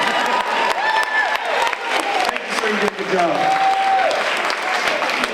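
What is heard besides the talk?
audience applause and cheering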